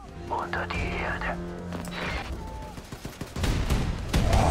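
Gunfire in Wolfenstein: The New Colossus: scattered shots and short bursts crack amid game noise, growing denser toward the end, with a player's voice talking over the action.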